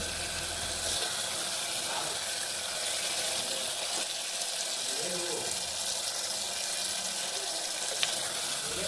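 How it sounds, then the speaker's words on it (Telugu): Cooked mutton stock is added bit by bit to a pan of frying masala for a Telugu mutton curry and stirred, giving a steady wash of sizzling, watery hiss throughout with no speech. "మటన్ ఉడికించుకున్న వాటర్ని కొంచెం కొంచెం వేసి కొంచెం అడుగు అంటకుండా బాగా మిక్స్ చేసుకోవాలి."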